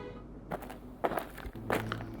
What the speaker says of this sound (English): I heard his footsteps moving towards the bed.